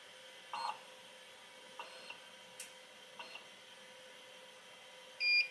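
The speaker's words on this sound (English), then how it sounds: "If it's not able to read one of the registration marks, it'll beep to let me know" Quiet mechanical ticks and clicks from a vinyl cutter reading registration marks, then one short high-pitched beep near the end.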